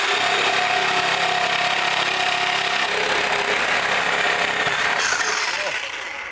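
A power tool cutting metal on a Ford truck, a loud continuous grinding whine close by that holds steady for several seconds, then eases and tails off near the end.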